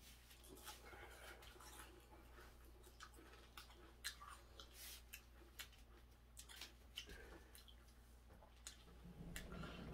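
Quiet, close-up chewing of fried hairtail fish dipped in ssamjang, with soft wet bites and smacking sounds repeating irregularly over a faint background hum.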